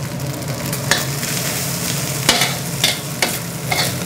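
Rice with dark soy sauce stir-fried in a pan for Thai fried rice, a steady close sizzle broken by several sharp scraping clatters of the spatula tossing the rice, with no talking.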